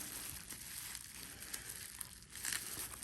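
Plastic packaging crinkles and tears while a new race car wheel kit with center cap, screws and Allen keys is unboxed, a steady close rustle with a louder burst of crinkling near the end.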